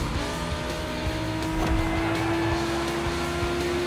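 Turbocharged 1990 Coupe Quattro tuned past 800 horsepower in The Crew Motorfest, its engine holding a steady loud drone at near-constant revs throughout, close and continuous with no talk.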